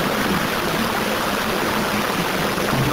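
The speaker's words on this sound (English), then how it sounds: "watching all the water come out" Water pours out of storm drain garbage traps that were just cleared of a clog, a steady, loud, broadband rush with no pause.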